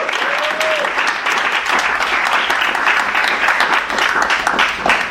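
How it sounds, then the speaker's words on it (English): Warm applause from an audience at a book talk, steady dense clapping held at a loud level with a few voices and a brief whistle-like tone near the start. "a warm round of applause."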